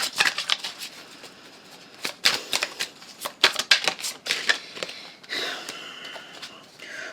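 Tarot cards shuffled by hand for a horoscope reading, a run of crisp riffling bursts and slaps at close range, irregular in rhythm, with a softer sliding rustle near the end.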